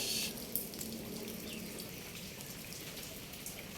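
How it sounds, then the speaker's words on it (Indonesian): Heavy rain pours steadily in a broad hiss, with wind folded into the noise, at a station where a 40-meter antenna has fallen in the storm; faint, continuous and without voices. "Efek dari hujan deras dan angin kencang."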